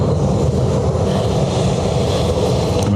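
A Ryanair airliner inbound from Luxembourg arrives at Dublin Airport, its loud, steady broadband jet roar filling the air without a break, with some wind buffeting the microphone.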